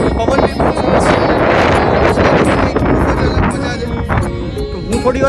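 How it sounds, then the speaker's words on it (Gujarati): Strong wind at a hilltop temple overlooking a lake buffets the microphone loudly and continuously, a roaring gusty rumble throughout with no talk. "પવન બી ખૂબ સરસ છે."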